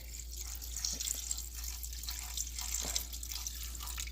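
Vinegar pours steadily into a container in a soft, continuous trickle over a low electrical hum, with faint splashy spots along the way.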